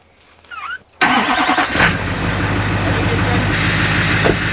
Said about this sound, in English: let's start the truck so we can warm up